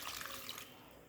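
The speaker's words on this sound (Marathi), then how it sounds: "आता हे पाणी मी टाकून देणार आहे." Water gushes steadily out of a large steel pot during washing after butter-making, a close, even splashing pour that tails off slightly near the end.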